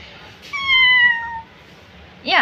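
A person vocally imitates a cat's meow: one clear, drawn-out mew with a falling tone, loud and close, followed by a short breathy vocal sound at the end.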